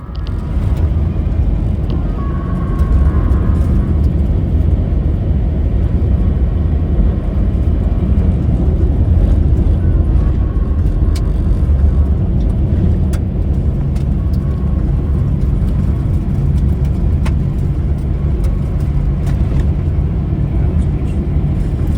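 A car drives a gravel road toward Sesriem over the Spreetshoogte Pass in Namibia, its steady low rumble of tyres and engine running loud and continuous throughout, with light gravel crackle and no talking.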